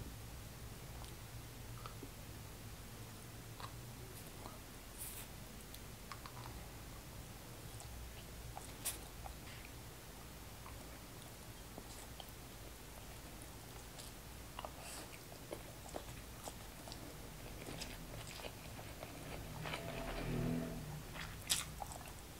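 Crunchy Buldak yakisoba noodles with crispy flakes being chewed close up, a steady run of soft bites and crunches, quiet, with no talking.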